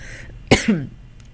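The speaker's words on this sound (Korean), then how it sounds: "어차피 보시는 분들도 계시니까 그냥 기침하겠습니다" A single sharp cough rings out close by, followed by a short rough throat sound, against a quiet background.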